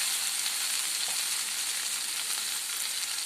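Colocasia (taro root) frying in a pan with turmeric and salt, a steady, even hiss of sizzling oil that continues unbroken at moderate level with no voices.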